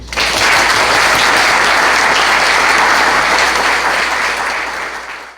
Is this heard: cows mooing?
no